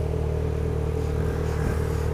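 A two-stroke motorcycle engine drones steadily close by, a low buzzing rumble with a slight rise near the end, blended with road noise.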